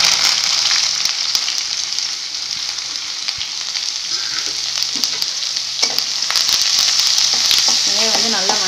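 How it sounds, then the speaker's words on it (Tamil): Onions and curry leaves sautéing in hot oil in a pan, a loud, constant sizzle with scraping stirs and spatula knocks scattered throughout, no voices. "வெங்காயம் நல்லா வணங்கி வரணும்."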